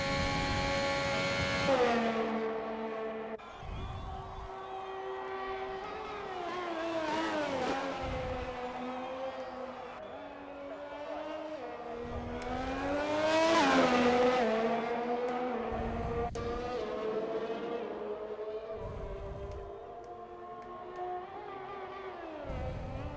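Race car engine in the RIZE racing sim on a flying lap, revving hard with rising and falling pitch through repeated upshifts and downshifts, loud and steady throughout with no talk.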